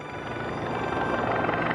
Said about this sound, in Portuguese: Um helicóptero soltando napalm chamejante em gel é a maneira escolhida.